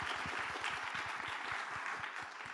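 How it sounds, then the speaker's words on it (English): Audience applause at a conference session, a steady wash of many hands clapping at moderate distance, sustained and fairly even throughout with no voices on top. "Can we give that a round of applause?"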